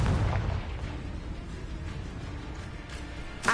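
A Confringo fire spell explodes in the video game Hogwarts Legacy: a short, deep blast opens, then a rumbling decay lingers, and a smaller burst pops right at the end.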